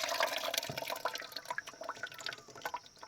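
Water trickles and drips as it drains down through maize ash used for washing clothes in a village, a steady splashing flow with scattered drips, close and fairly loud, with no talk.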